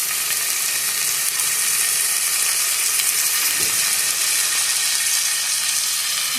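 Chopped tomatoes go into onions already frying in a pan, giving a steady, dense sizzle and hiss that holds evenly from start to finish with no talking.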